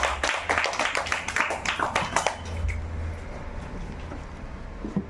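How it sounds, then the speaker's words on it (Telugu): Several people clap their hands together in a quick burst of close, sharp claps lasting a couple of seconds, then it fades into quiet room noise with faint talk. "క్లాప్ చేయండి."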